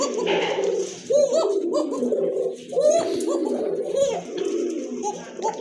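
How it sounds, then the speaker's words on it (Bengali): A male Koka pigeon of a breeding pair coos in repeated low, throaty bursts close by, with other pigeons and a faint dog bark mixed in. "এটা কিন্তু সম্পূর্ণ রানিং একটা পেয়ার ডাকতেছে এটা নর"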